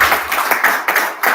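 A brief burst of hand clapping, several sharp claps in quick irregular succession, fairly close and loud, without talk.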